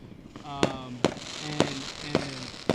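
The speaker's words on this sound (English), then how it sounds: "We got fireworks going off all over the place" Fireworks going off outdoors in regular sharp bangs about every half second, with a voice talking underneath between the pops.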